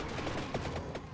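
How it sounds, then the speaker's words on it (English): A quick burst of sharp crackling blasts from an explosion in the video game Vampire Crawlers, several rapid pops in a loud cluster with no voices. "It's just so delightful watching an explosion like that happen."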